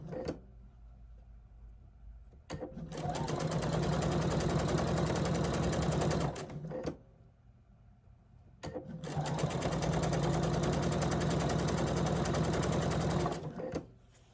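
An electric sewing machine runs in two long, steady buzzing stretches as it stitches long fabric strips, with a brief quiet gap between the runs.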